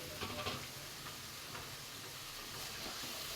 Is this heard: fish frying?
yes